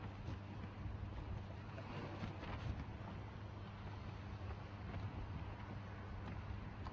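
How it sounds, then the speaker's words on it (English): Deep, steady V8 race car engines rumbling with a low droning tone at a Grand Prix race, continuous and fairly loud, with a rough burbling texture throughout. "Start your engines. Let's let them hear them rip and rumble."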